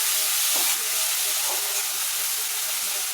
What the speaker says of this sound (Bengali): এগুলো দিয়ে নাড়াচাড়া করে নেব